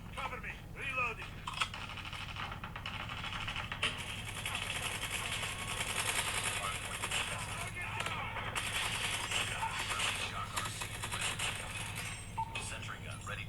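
Rapid, continuous automatic gunfire from a sentry gun in a mobile shooter game played on a Samsung Galaxy S24 Plus, sustained and dense under game voice callouts.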